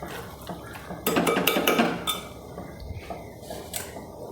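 Rinse water from a mixer jar and a bowl is poured into a cooking pot of ground spice paste for a clam meat and jackfruit seed curry, giving a short burst of splashing with clinking vessels.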